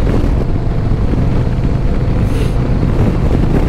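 Steady, loud wind buffeting a rider on a 2024 Harley-Davidson Road Glide on a gusty day, a constant broadband roar with no pauses and no talk.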